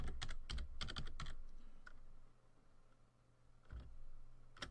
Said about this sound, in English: I'll enter my credentials, password, make sure we get that right.